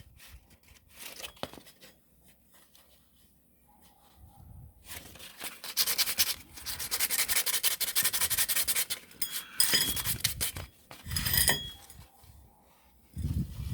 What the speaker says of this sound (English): Right here I can actually feel something. I'm going to try to sand it out.